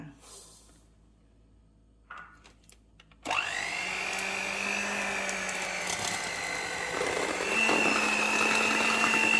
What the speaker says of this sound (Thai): แม่อ้อยจะ ตีตัวเนยกับน้ำตาลก่อนค่ะ